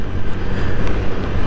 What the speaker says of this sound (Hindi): आज मौसम थोड़ा ठंडा है बाहर का, अच्छी ठंडी हवा चल रही है